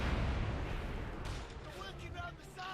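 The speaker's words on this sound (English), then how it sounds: "Panther taking some light mortar fire there." Light mortar rounds burst around a Panther tank in the WWII strategy game Company of Heroes 2, a heavy rumbling boom at the start that fades into lighter crackling, with a voice talking over the later part.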